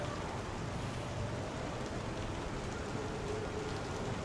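Steady rain in the video game Star Citizen, a dense, even wash of falling drops with no break or change, continuous and moderately loud with no voices.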